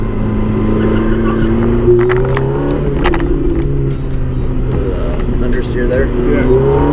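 A Ferrari F430 Modena runs an autocross course, its engine droning steadily and loud close by with shifting pitch throughout, while occasional voices come through over it.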